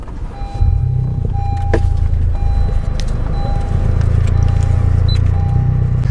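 A Honda Civic Si engine cranks and catches, then settles into a loud, steady idle with a deep rumble that continues to the end.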